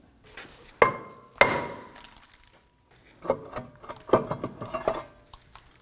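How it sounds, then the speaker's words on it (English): Several sharp metallic clanks as a hammer strikes the back of a rear brake rotor on a Volvo XC90 to free it, two loud strikes early and a cluster of lighter knocks later, close by with brief ringing. "use a hammer to go ahead and give this a bonk on the backside to separate it"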